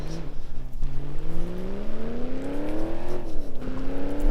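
A car engine in the driving game BeamNG.drive revs steadily upward in pitch, a smooth synthetic whine with harmonics, dipping once near the end before climbing again.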